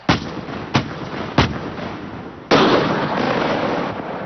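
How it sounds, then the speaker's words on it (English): An M1 Abrams tank's main gun firing: three sharp, booming blasts at short, even intervals, then a fourth heavier blast trailing into a long rumbling decay, heard on a muffled, low-fidelity recording. "The recoil of the gun rocks the whole tank."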